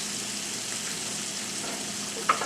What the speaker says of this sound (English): our butter is melting